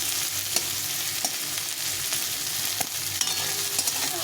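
Onion softens in a little oil in a pan for chickpea chaat, giving a steady close sizzle with occasional spatula clicks and stirring scrapes, no talking.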